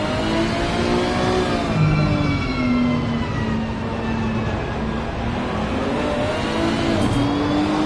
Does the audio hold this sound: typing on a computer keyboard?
no